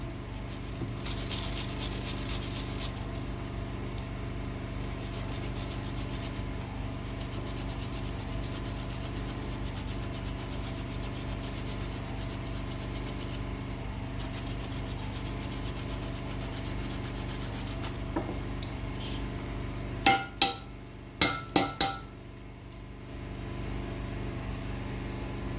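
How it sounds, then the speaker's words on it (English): Fresh ginger being grated for a spicy Nigerian catfish pepper soup, a steady rubbing, rasping scrape running throughout over a constant low kitchen hum, ending with a few sharp knocks. "just grate in some ginger"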